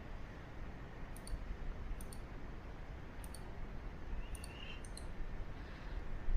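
Mouse clicks in quick pairs at an irregular pace while a user works in FreeCAD CAD software, crisp and close over a steady low background hiss with no talking.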